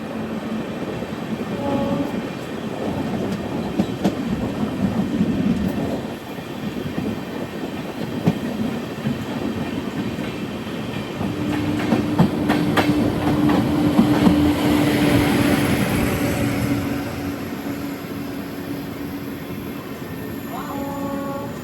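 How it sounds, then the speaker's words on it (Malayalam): The Ernakulam-Bengaluru Express runs along the tracks past Ernakulam Town station, with steady rumbling, rattling clatter and a louder stretch midway, heard from on board. "ട്രെയിൻ ഇപ്പോൾ Ernakulam town railway station skip ചെയ്യുകയാണ്"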